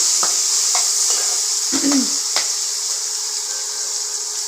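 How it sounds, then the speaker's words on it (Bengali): Chopped onion frying in hot oil left over from frying potatoes, a steady bright sizzle throughout with a few clinks and stirring scrapes of a utensil against the pan. "পেঁয়াজ কুচি দিয়ে দিলাম, আলুগুলো ভেজে তুলে নিয়েছি, ওই তেলেই"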